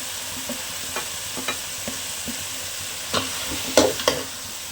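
Masala powders being stirred into an egg curry in a pan, a quiet steady sizzle broken by a series of spoon scrapes and taps, louder clusters near the end, with no voices.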